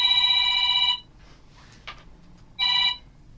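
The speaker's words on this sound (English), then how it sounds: "let me answer the phone because we got a caller already" A telephone rings with an incoming call on a radio talk show: two loud electronic trilling bursts separated by a short quiet gap, with no voices over them.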